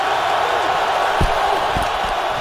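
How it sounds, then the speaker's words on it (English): Stadium crowd at a Detroit Lions NFL home game against the Atlanta Falcons, a steady dense roar of many voices building, with a few dull thumps underneath and no clear talk. "it's beginning to crank up here"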